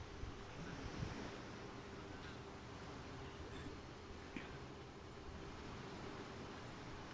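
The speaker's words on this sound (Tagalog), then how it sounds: "Naririnig yung alon ng tubig." Steady rush of ocean waves washing in the distance, a continuous low roar with faint wind noise and no voices.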